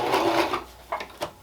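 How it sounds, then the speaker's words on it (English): A malfunctioning sewing machine runs in a short burst of mechanical stitching, then stops, followed by a couple of brief clicks. "my sewing machine is messing up"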